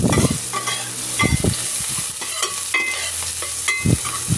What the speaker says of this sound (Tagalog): Mag-isa tayo ng sibuyas, pati na rin ang bawang.